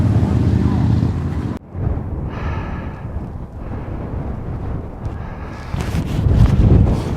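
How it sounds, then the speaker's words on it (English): Gusts of wind on the South Downs Way trail buffet the microphone with a low rumbling roar that drops off and returns, while someone speaks briefly in between. "It's rather windy still."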